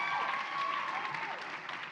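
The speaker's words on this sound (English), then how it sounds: "please applause, please" An audience at a graduation celebration applauds steadily, a dense, even patter of many hands clapping at moderate distance throughout.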